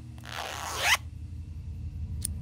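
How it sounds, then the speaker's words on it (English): A zipper on a cushion in the video game Tesla Effect, pulled in one close, rasping stroke lasting under a second, followed by a faint brief click over a low background hum. "zipper on this cushion stuck."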